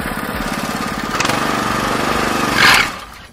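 Engine of a vehicle just shifted into second gear on a muddy rural road after rain, a steady loud rumbling drone with a rough rhythmic chug that swells briefly near the end.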